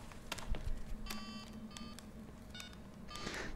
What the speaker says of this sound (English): Starts ringing from a closet.